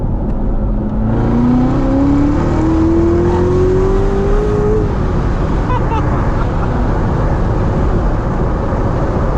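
From inside a C7 Corvette Z06 pulling hard, a loud engine roar builds with a rising whine climbing steadily in pitch over the first few seconds, then carries on as a dense, continuous drone at full throttle.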